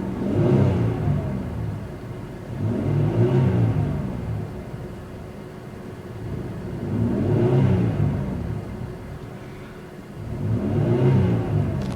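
2003 Pontiac Grand Am SE engine revved three times, each rev rising to a loud roar and then settling back to idle in a slow, even rhythm.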